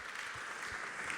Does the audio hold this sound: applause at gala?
yes